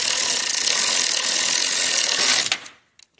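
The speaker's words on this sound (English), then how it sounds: "I'm going to go ahead and get on those with an extension here and tighten them up" A ratchet on a long swivel extension with a 10 mm socket rapidly clicks while tightening catalytic converter bolts on a GM 3.6L V6, a close, continuous buzzing rattle that stops abruptly, followed by a couple of faint taps.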